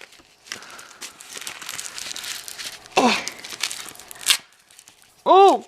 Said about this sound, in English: all I'm doing is ripping the plastic, and that's not getting anywhere.